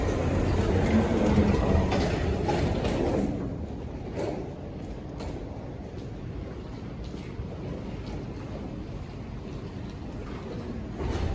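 Steady rumbling of an airport shuttle train in motion at Las Vegas McCarran Airport, louder at first and then settling into a quieter, constant hum with faint clunks.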